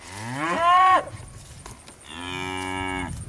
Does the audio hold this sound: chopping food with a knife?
no